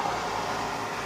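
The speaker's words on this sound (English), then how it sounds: "Yes, you can hear the cars go by" Steady traffic noise of cars passing outside an open window, a continuous broadband rush and hum heard at a moderate distance with no voices.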